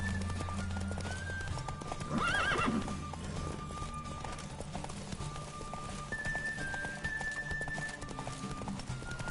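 A horse gallops in The Witcher video game, hooves pounding in a fast, steady rhythm under game music, with a loud whinny rising near the two-second mark.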